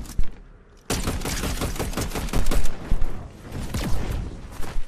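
Rapid bursts of gunfire from a Fortnite ranked match, a dense volley of close shots erupting after a brief quiet and continuing with loud irregular cracks and repeated automatic fire.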